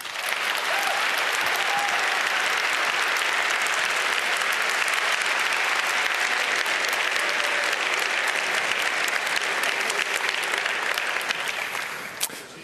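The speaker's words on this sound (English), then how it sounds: "A loud applause," Large audience at the 29C3 hacker conference welcomes a keynote speaker with loud, sustained applause that holds steady for about twelve seconds before tapering off at the end.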